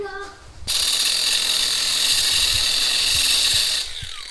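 A bolt has a relief cut into its threads with a tool, giving a loud, continuous whirring, ratcheting mechanical grind that runs for about three seconds before cutting off.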